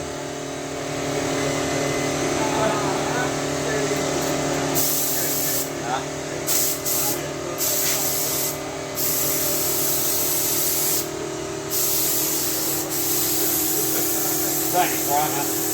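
An air spray gun hisses in steady bursts as pink paint goes onto parts for a 1992 Honda Prelude SiR restoration, close and loud with short pauses between passes, while people talk over the spraying.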